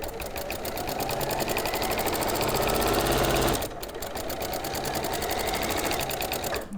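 A sewing machine stitches a quilt at high speed, a loud, close, rapid mechanical whirr with a tight regular needle rhythm. It slows briefly partway through, then resumes at full pace.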